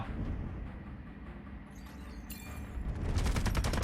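Rapid automatic gunfire crackles in the shooter Delta Force Mobile during an attack on a capture point, a dense continuous rattle of shots that grows louder and sharper toward the end.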